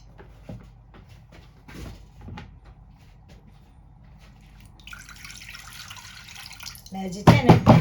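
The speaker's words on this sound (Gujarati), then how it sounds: "ને હજી છે ને થોડું પાણી મૂકીશ, એટલે છે ને ઉકળવા માટે પાણી થોડું જોશે" Water is poured into a pressure cooker holding chickpeas and potatoes for a curry. A few soft clunks lead into a faint trickle that swells into a loud, close rush near the end.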